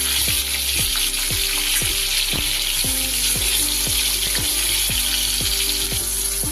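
Pointed gourd (potol) frying in oil until reddish gives a loud, steady sizzle throughout, with regular scraping taps of a spatula stirring the pan, and no voices.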